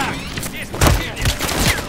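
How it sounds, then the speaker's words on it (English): Enemy gunners firing on a ship in Call of Duty: Modern Warfare 3, loud bursts of gunfire with sharp cracks and blasts over a busy, noisy battle scene lasting a couple of seconds. "Enemy gunners posted on your ship, Graves."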